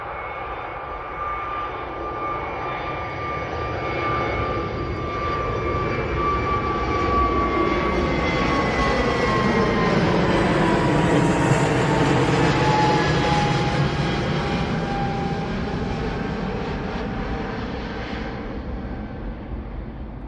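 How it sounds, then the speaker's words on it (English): A British Airways jet airliner on a shuttle to London Heathrow takes off from Manchester Airport, its engine roar swelling and then slowly easing over twenty seconds, heard from a distance with a whining tone sliding through it. "So this one is British Airways off to London Heathrow."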